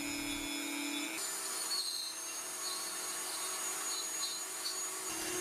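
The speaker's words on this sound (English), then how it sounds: "I drilled through the remaining waste behind the chick's head and slowly removed material with a spiral cylinder bit" A rotary power carver fitted with a spiral cylinder bit removes waste wood behind a chick's head on a carved American woodcock, producing a continuous high, steady whine with slight shifts in pitch as the bit bites.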